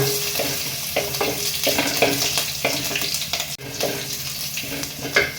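Mustard seeds, curry leaves and green chili frying in hot oil, a loud steady sizzle with crackly spatters and a few rhythmic stirring scrapes up close.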